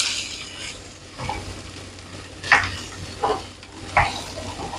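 Green beans fry quietly in oil in a pan for a bean poriyal, a faint low sizzle with a few distinct scraping stirs and utensil clinks spaced apart.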